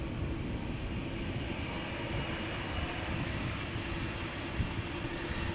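A United Airlines Boeing 787-8 Dreamliner departing Amsterdam Schiphol Airport for Washington, a loud, close, steady broadband engine roar that fills the whole stretch without a break.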